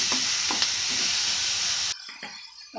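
Murmura uggani is stirred and sautéed in a pan, a steady close sizzle with a few scraping stirs before the frying noise drops away abruptly, leaving faint clatter.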